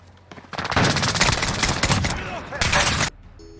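Rapid automatic gunfire in Call of Duty: Modern Warfare on the Season 3 Sawmill map during a Headquarters match, a loud close burst lasting about two and a half seconds with a brief pause before it resumes.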